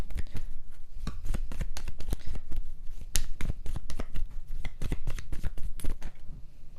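Tarot cards are shuffled close up in a fast, steady run of crisp riffling snaps and flutters that carries on without pause, loud and clear with no talk over it.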